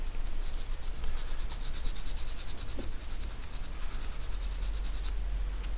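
Fine sandpaper rubs back and forth on a scribed plastic model kit panel in a quick, steady rhythm of close scratchy strokes.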